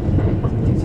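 A Japanese limited express train runs through Awara Onsen station, a brief loud rumble of wheels on rail heard from on board.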